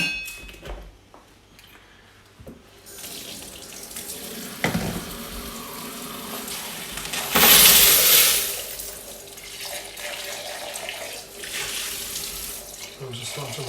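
Tap water runs into a coin-cleaning tumbler with washing-up liquid, heard as quiet trickles and splashes that swell into one louder gush of running water before settling back to a low flow.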